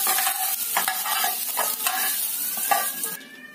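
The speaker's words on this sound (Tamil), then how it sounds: "அதே கடாயிலேயே நம்ம வெங்காயத்தையும் வணக்கலாம்" Onions sautéing in oil in a kadai, a steady close sizzle with repeated scraping stirs of a spatula, tapering off near the end.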